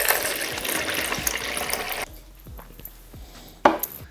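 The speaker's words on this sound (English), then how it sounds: "we're going to measure out 600 grams of room temperature water" Room temperature water gushes into a clean container being measured out for pasta dough, a loud splashing pour for about two seconds, then quiet handling knocks and a brief final splash.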